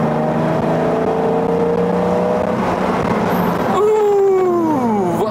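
Mid-engine Porsche 914-based Carrera Käfer held steadily at low-to-mid revs, a loud continuous engine drone that then swells with a rising rev before easing off, with voices talking over it.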